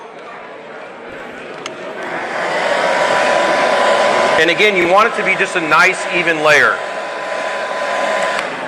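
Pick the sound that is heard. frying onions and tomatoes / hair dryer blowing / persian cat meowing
hair dryer blowing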